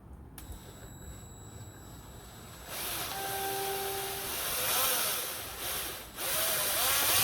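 A power drill with a step drill bit bores a hole during installation of a keyed parking brake lock on a Can-Am Ryker, starting partway through with a steady whirring hiss and brief tonal squeals, close and fairly loud.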